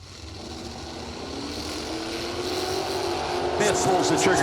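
A 1974 Chevrolet Vega hot rod drag car runs down the strip, its engine rising steadily in pitch and loudness as it pulls away, heard at a distance under a track announcer's voice.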